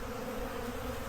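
Honey bees buzzing around the upper entrance of a hive in a forest clearing, a steady, faint, dense drone with no voices.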